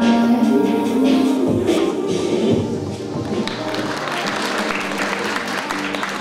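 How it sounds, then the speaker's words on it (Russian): Guests at an Arctic fashion show in Murmansk applaud loudly and steadily, a dense crowd clapping that carries through the whole stretch alongside some background thumps and faint voices. "Громкими аплодисментами гостей показа."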